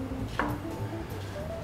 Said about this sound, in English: So you take the tomato, chop it in half,